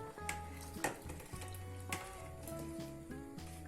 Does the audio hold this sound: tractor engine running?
no